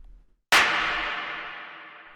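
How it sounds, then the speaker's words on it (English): A single drum machine clap sample for raw electro hits sharply after a moment of near silence, then decays in a long bright noisy tail. "the last layer we have inside of this group is this clap"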